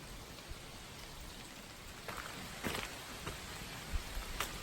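Light rain patters on a hiking trail with wet, rocky ground, a soft steady hiss broken by scattered closer drips and taps, heard alone with no one talking.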